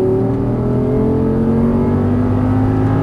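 An Audi R8 engine accelerates out of a corner, a loud, steady, close-up drone with rising harmonic tones as the revs climb continuously for a few seconds, with no voices.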